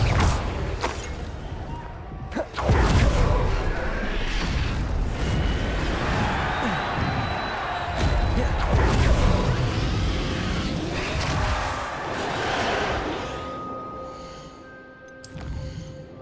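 A Confringo explosive spell in Hogwarts Legacy on the Switch goes off as a heavy, booming blast with a long rumbling roar and crackling debris that swells, holds and slowly fades, followed by a few quieter sharp hits.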